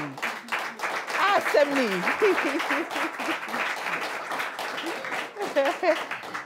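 Applause and clapping from an audience at a charity beauty pageant event, sustained and fairly steady, with voices talking over it throughout.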